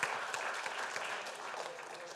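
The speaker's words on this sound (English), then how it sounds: "Big round of applause" Steady applause from an audience, with a few voices mixed in, lasting a couple of seconds.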